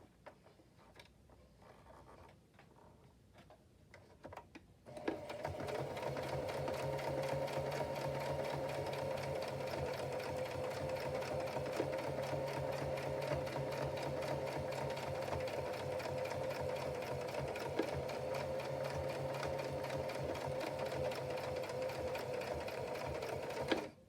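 A sewing machine runs a steady zigzag stitch across a handmade card, its close, continuous mechanical whir beginning after a few seconds of quiet handling and lasting without pause.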